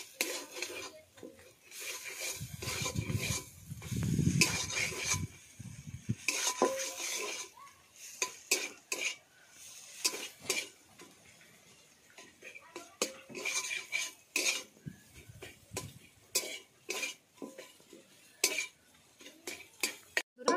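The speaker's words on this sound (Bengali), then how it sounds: "বন্ধুরা, এবার আমি মশলার সঙ্গে ডিমটা ভালোভাবে মিশিয়ে দিই।" Egg mixed into spices in a kadai for a patties filling, with irregular scraping, clinking spatula strokes against the metal pan, fairly quiet and close, with a faint low hum early on.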